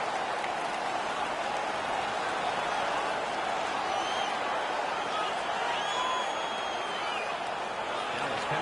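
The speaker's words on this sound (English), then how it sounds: "The home crowd is ecstatic. They're making all kinds of noise." A large home crowd at a hockey game roars steadily and loudly throughout, a dense wash of cheering and noise with no breaks.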